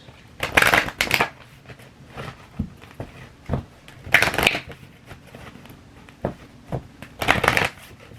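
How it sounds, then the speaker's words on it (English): Tarot cards are shuffled in several quick riffling bursts, separated by soft taps and pauses, close to the microphone. "So let's pull in each spirit card."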